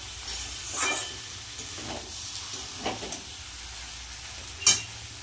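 Cooked vegetables with Malabar spinach stems and dried fish stirred in a pan, giving a soft background sizzle with a few scattered scrapes and one sharper clink near the end.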